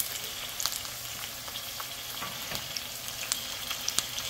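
Tomato, squash and onion fry together in a pan for an avocado salsa, producing a continuous close sizzle with scattered pops and faint stirring clicks, no voices.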